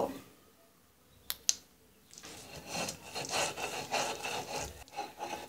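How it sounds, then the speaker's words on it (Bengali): Salt is ground by hand on a flat grinding stone in a Bengali kitchen, giving a close, rough rasping scrape that repeats in uneven strokes after a couple of brief knocks. "এবার সব শেষে আমি স্বাদমতো লবণ বেটে নিব।"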